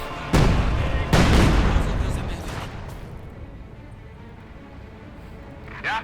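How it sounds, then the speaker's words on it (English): Artillery bombardment in the Company of Heroes 2 strategy game: two heavy booming impacts close together early on, rumbling and decaying into a low battlefield wash, with a faint sharper report near the end. "bombardment there versus the grenades to force them away from the point"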